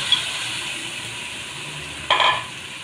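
Spiced marinated meat, prepared for biryani, tipped into a hot pan with fried garlic paste, giving a sudden sizzling burst near the end over a quiet steady hiss.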